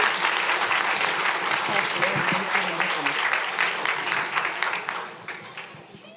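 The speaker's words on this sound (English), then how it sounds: "Let's give them all one more big round of applause." A big round of applause from parents and families fills an end-of-season youth sports awards ceremony, dense clapping that holds steady and then tapers off toward the end.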